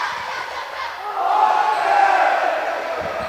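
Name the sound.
volleyball crowd cheering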